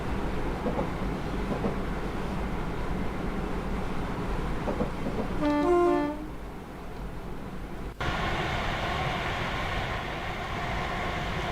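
A train in the Train Sim game, running the East Coast Main Line between Peterborough and York, rumbles steadily throughout, with a brief rising whistle-like tone near the middle and a slight shift in the drone later on.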